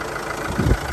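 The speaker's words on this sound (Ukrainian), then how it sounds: "Ось так ще покажу, як працює двигун." The 2.0 diesel engine of a Fiat Fremont AWD automatic idles steadily nearby, a low continuous rumble with a slight swell near the end.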